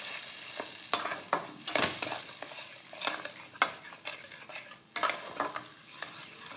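Spiced potato mixture with cumin powder, salt and sugar being stirred and fried in a pan, with repeated scraping strokes and soft sizzling at close range, irregular bursts of utensil-on-pan clatter, no voices.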